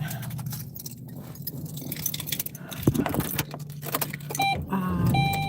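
Metal keys jangling as they are pulled from a pocket, a dense run of close bright clinks and rattles coming in bursts, with rustling of fabric around them.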